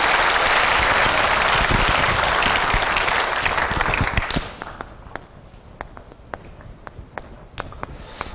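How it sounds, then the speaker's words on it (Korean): A church congregation applauding in thanks, loud dense clapping for about four seconds that then breaks off into scattered single claps and taps. "하나님께 감사의 박수를 힘차게 하고 합시다."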